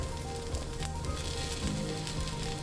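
Olive oil sizzling on a hot dosa pan while a dosa cooks: a continuous close, crackling hiss at a steady level throughout, with faint clinks and scrapes beneath it.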